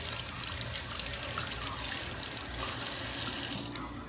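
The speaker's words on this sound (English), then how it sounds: "we're going to rinse it off a little bit just so it's not super gross" Kitchen tap water running steadily over raw chicken in a sink, a loud continuous hiss and splatter close by that stays even throughout and eases slightly at the very end; no one talks.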